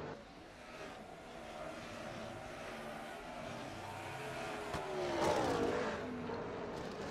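Race trucks roar around the oval at South Boston in a short-track truck series event, the engine drone steady at a distance before a louder pass swells and fades, with commentary running underneath.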